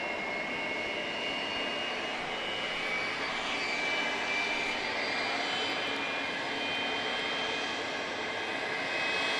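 Steady roar of jet airliner engines at Atlanta's airport, with a Boeing 757-200 nearby, a continuous broad rumbling whine holding level throughout without pauses.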